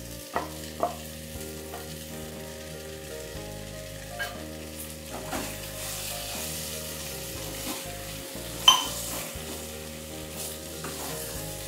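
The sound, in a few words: potatoes sautéing with spices in oil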